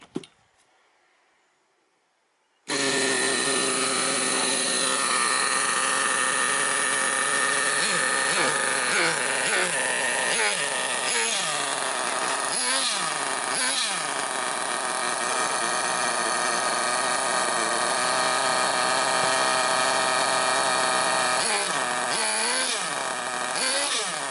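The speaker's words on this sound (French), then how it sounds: "Un petit coup de lanceur suffit pour la démarrer." The nitro engine of a Gunner 1/8 RC car fires abruptly after a brief near-silence, then runs as a loud, high, buzzing whine. Its pitch wavers through throttle blips and stays close and steady for over twenty seconds, with no talking.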